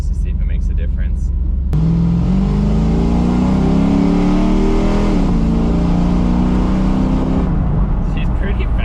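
A Dodge Magnum V8 with a stock long block revs up loudly and close, the engine note climbing smoothly over several seconds, dipping briefly, then rising again before dropping back to idle.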